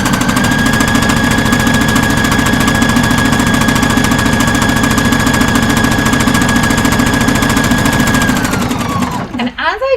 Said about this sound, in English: I'm going to sew up to the top of the dart that is right here